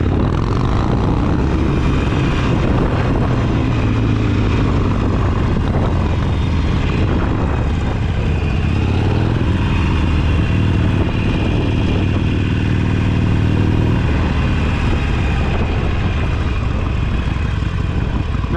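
One of several cruisers, a Harley 48, Suzuki Savage, Honda Magna or Yamaha Midnight Star, runs loud and close through its exhaust pipes, a continuous throaty rumble that swells and eases over about nineteen seconds with no talking.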